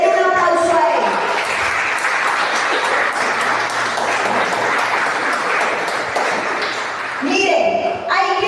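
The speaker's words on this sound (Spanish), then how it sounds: "Denle un aplauso a él." Sustained applause from a church congregation fills most of the stretch, a dense steady wash of many hands clapping, with voices speaking briefly at the start and again near the end.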